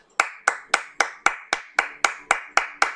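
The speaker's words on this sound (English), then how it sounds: "A round of applause for my rival." A single person claps alone, about a dozen sharp, evenly spaced claps at a steady moderate pace, close and clear, offered to a rival at the start of a Pokémon Rijon Adventures playthrough.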